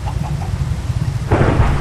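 Rain hisses steadily in a Minecraft thunderstorm while a low rumble builds, then a louder crack of thunder breaks in near the end.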